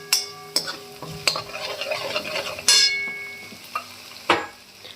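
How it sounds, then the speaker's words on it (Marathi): Green chili paste frying in oil in a pan, a soft bubbling sizzle punctuated by several sharp clinks and scrapes of a spoon stirring against the pan. "आता इथे हिरव्या मिरचीचं पेस्ट वगैरे छान होत आहे तेलामध्ये"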